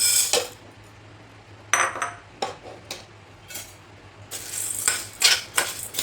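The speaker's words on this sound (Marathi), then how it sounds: "आता टाकायचे हरभरा डाळ" Dry chana dal poured into a pan of roasted rice makes bursts of rattling and clinking grains and utensil scrapes, several separate pours with a steady low hum underneath and no talking.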